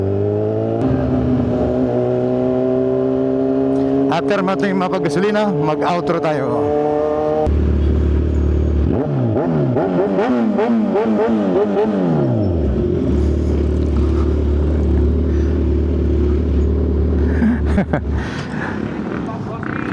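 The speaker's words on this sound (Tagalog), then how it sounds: "hindi masyadong malakas dahil napakalakas nitong ating motor" A loud Kawasaki Z1000R motorcycle with an AR exhaust revs and idles throughout, with someone talking over it close to the mic.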